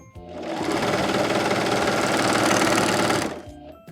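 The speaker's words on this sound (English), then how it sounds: "I'm gonna sew this together real quick" A sewing machine runs a short seam on a T-shirt crop top in one steady, loud, rapid whir that speeds up, holds for about three seconds, then stops, close and alone.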